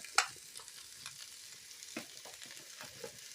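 Cauliflower frying in a pan gives a soft, steady sizzle, with a spatula scraping and stirring in short strokes and one sharp clink near the start.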